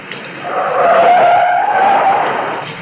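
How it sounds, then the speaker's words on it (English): An old sports car skids up to a curb, its tires squealing in one loud, sustained screech that swells and then eases off, alone with no voices. "The car jock gunned my old sports car up to the curb."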